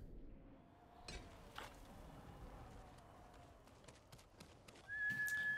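Horse hooves clopping in Ghost of Tsushima, a steady clip-clop under game ambience with a sharp neigh or whinny near the end.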